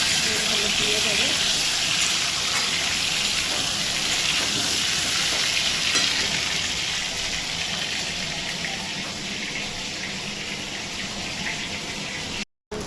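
Potatoes with salt and turmeric fry in a pan, giving a dense, constant hissing sizzle that stays loud and close for the whole stretch before cutting out briefly near the end.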